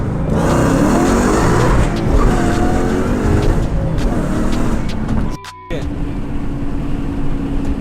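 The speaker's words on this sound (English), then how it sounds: "I might keep this exhaust just because I love hearing that whine" A supercharged 2017 Ford Mustang fitted with a Roush Phase 2 kit and VMP 67mm throttle body pulls hard from inside the cabin, a loud engine roar laced with a rising supercharger whine, then a brief drop as it shifts before the drone resumes.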